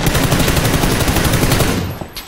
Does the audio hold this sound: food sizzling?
no